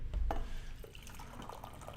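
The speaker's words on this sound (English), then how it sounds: "I'm gonna pour myself some tea." Tea poured from a pot into a cup, a short liquid trickle and drip with a faint clink of crockery, close and fairly quiet against low room noise.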